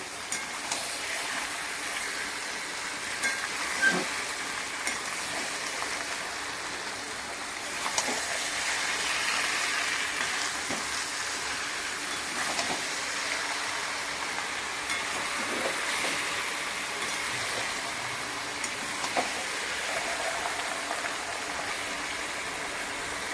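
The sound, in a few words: mixing food in a pan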